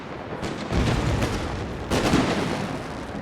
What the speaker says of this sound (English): Oh, there goes a bomb!